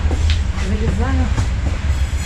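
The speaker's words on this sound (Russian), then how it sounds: "Садимся в электричку." An electric commuter train on a Russian suburban line is boarded on the way back from a forest lake. It rumbles steadily nearby, with rail clatter and faint voices.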